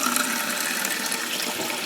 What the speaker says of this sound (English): So I'm just filling my jars with water.